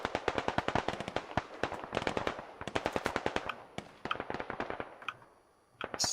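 Rapid gunfire crackles through a Squad video game firefight, sharp automatic bursts and single shots snapping in dense clusters with brief gaps, mostly close and loud, tapering near the end before another burst.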